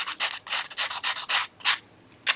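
A burr is sanded off a wooden dovetail box in quick, close, loud rubbing strokes, about a dozen bursts in an uneven rhythm with brief pauses between them.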